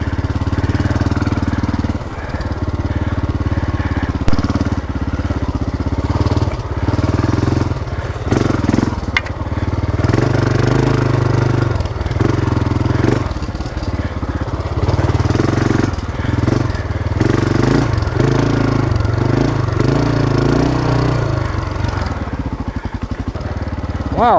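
A Honda XR600R motorcycle engine runs continuously while being ridden, loud and close, with a steady rough drone that swells and dips as the throttle and gears change.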